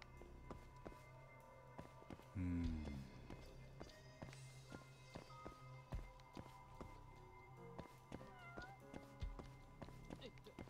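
In Judge Eyes, a cat meows clearly once, a short loud call in the middle, amid faint footsteps and quiet background game music.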